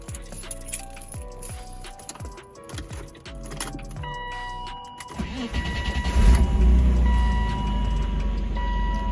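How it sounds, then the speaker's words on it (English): A 1995 BMW M3 with a freshly repaired starter: clicks and jangling give way to the engine cranking and catching, settling into a loud, steady idle close by. "So now the car starts perfectly fine."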